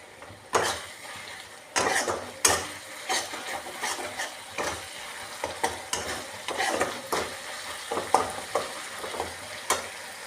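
Tomatoes frying in a pan for an egg lentil tarka, a steady close sizzle broken by repeated scraping stirs and clinks of a spoon against the pan, a dozen or so irregular strokes over the sizzle.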